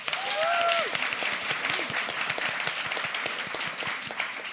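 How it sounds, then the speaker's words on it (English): Audience at a policy debate clapping to vote, a full round of applause from many hands sustained for several seconds, with a brief voice rising over the start. "please clap now."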